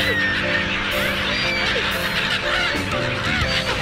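A large flock of seagulls lifts off together at Bangpu Recreation Center near Bangkok, filling the air with a dense, continuous chorus of overlapping squawks and honking cries, loud and close throughout.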